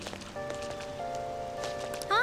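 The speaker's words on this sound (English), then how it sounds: "Oh yeah, it's raining now." Steady rainfall in Persona 5 Royal, a soft continuous patter on surfaces under game music tones, with a brief rising chime near the end.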